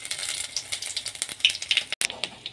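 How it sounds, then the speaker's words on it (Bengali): Whole cumin seeds and dried red chilies sizzle and crackle in hot oil, a close, steady spitting with rapid little pops throughout and a brief gap near the end. "তেলটা গরম হয়ে গেছে, গোটা জিরে শুকনো লঙ্কা দিলাম ফোড়ন"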